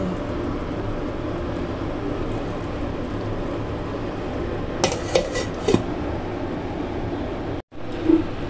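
While eggplant cooks in a pot for mung bean stew, a few metallic clinks and clatters come as the lid goes on, over a steady background of simmering noise.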